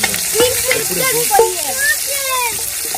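Onions dropped into hot oil for a pork curry, a bright close sizzle and crackle with stirring while voices talk over it.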